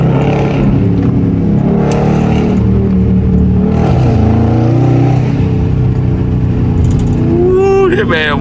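A Dodge Scat Pack V8 rumbles loud and close, its engine note swelling as the throttle is tapped and settling back, with a voice speaking over the steady roar.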